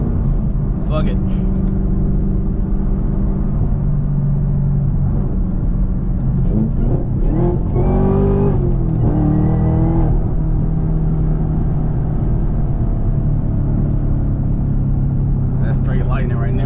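Chevrolet Camaro ZL1 with a six-speed manual driving at night on slick tires toward a storm, its engine a steady low rumble throughout with a brief rise around the middle, while someone talks over it.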